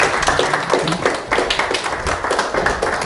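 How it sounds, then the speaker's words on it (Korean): A church congregation claps together in blessing after an infant baptism, a brisk, dense burst of hand-clapping that fills the room evenly throughout. "다 같이 박수로 축복하겠습니다."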